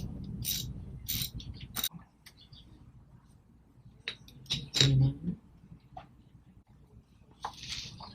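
Hand tool working a bolt on the rear brake reservoir of a 2008 Suzuki GSXR 600, a scatter of close, quiet ratcheting clicks and metallic taps separated by pauses, with a louder clatter near the middle.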